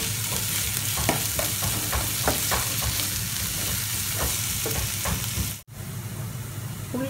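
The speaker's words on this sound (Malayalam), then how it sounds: "ഇനി ഈ ഉള്ളിയൊക്കെ നന്നായിട്ട് വഴറ്റി കിട്ടാൻ വേണ്ടിയിട്ട് ഇതിനകത്ത് ഒരു 1/4 ടേബിൾ സ്പൂൺ ഉപ്പ് കൂടെ ചേർത്ത് കൊടുത്ത് വഴറ്റാം" Sliced onions sauté with salt in a hot pan while cooking for tapioca biriyani. A continuous, even sizzle fills the clip, with occasional scrapes and taps from stirring, and no one speaks.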